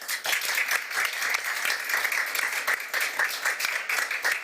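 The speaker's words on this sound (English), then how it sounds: "Shall we give these fantastic people a big round of applause?" An audience in a glass-walled congress hall at a world sports tourism event breaks into sustained applause, with many hands clapping in a loud, continuous ripple that holds steady throughout.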